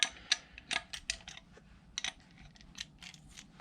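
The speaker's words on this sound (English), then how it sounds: "we can go ahead and take an 11/16 wrench and we can crack these bottom jam nuts loose for these elbows." An 11/16 wrench cracks loose the bottom jam nuts on the hydraulic elbows while a splitter manifold is installed on a Kubota BX tractor. Close, sharp metallic clicks and ratcheting snaps come in quick bursts, then thin out into lighter taps.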